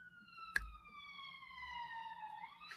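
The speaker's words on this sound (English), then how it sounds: "Police cars going past." Police car sirens sweep past in an anime episode, a wailing tone gliding slowly downward over a few seconds with a sharp thump near the start, fairly faint against a low background.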